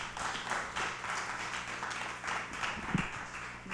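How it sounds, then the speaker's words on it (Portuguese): A church congregation claps steadily for several seconds during a family service, a dense, sustained patter of applause with no voices. "Aplauda o Senhor Jesus."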